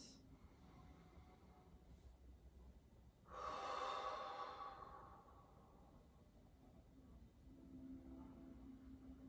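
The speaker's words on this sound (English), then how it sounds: "Take a couple of big breaths." A single deep breath drawn in and let out close by during a calm, guided stretching and meditation session, swelling for about two seconds over a low steady room hum, then quiet.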